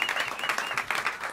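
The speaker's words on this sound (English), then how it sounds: "help me welcome them to the stage with some warm applause" Warm applause from a small audience at Smalls Jazz Club as the band is welcomed to the stage, a short burst of close, bright clapping.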